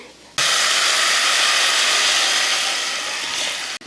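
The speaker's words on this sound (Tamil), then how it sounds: "நான் தாளிக்க போகிறேன்." Spices tempering for fish curry hit hot oil with a sudden loud, steady sizzle that starts sharply and holds at full strength for about three seconds before cutting off, with no talking.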